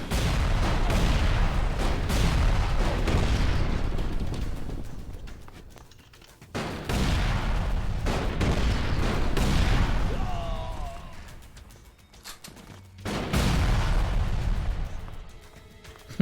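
Heavy weapon blasts from an enemy with a shotgun in the video game ELEX II, several booming shots in separate bursts with short gaps between them, loud and close, among other game noise.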